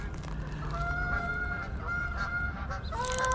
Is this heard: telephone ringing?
no